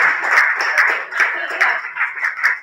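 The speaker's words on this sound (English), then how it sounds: "Big round of applause for Phil and your time." An audience at a forum on editing human evolution claps for a speaker after a group report, giving a short, dense burst of applause that stays steady and fairly close for a few seconds.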